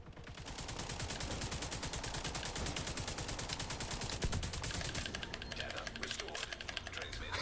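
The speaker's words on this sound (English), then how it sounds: "Pulled out my pistol to get a few shots in there." Shooting in The Division 2 during a Black Tusk encounter, a fast, even rattle of many closely spaced shots that runs continuously, fairly quiet, with no talking.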